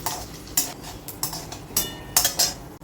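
Peanuts, curry leaves and small coconut pieces roasting in a pan, with a soft sizzle underneath and several sharp spoon scrapes and clinks against the pan at irregular intervals, close up.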